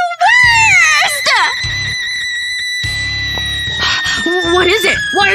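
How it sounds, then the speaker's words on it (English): A person screams in several high, wavering cries, loud and close, with short gaps and sustained shrieks across the stretch, some sounding like sobbing wails. "Why are you screaming?"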